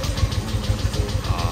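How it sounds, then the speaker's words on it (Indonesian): Motorcycle engine fitted with a replacement right-hand switch from a Yamaha Xmax, running with a loud, rough rhythmic low chugging pulse close by, with no speech. "Nah, ini starter nih."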